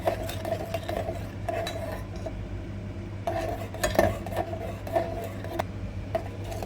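Mango pudding mixture of mango, water and sugar being stirred in a pot, with repeated metal clinks and scrapes of a spoon against the pot in an uneven rhythm over a steady low hum, no talking.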